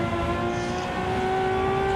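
A Ferrari 335S Scaglietti Le Mans engine in Assetto Corsa revs high and steady near 8,000 RPM at Imola, a continuous loud buzzing howl with strong, stable harmonics that barely shifts in pitch over two seconds.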